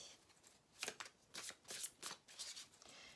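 Tarot-style advice cards shuffled by hand nearby, quiet riffling bursts of papery flutters in an uneven rhythm, with no speech.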